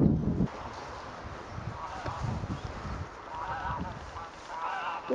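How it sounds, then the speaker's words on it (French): Geese honk repeatedly at moderate distance over gusty wind noise. "il y a des oies par là"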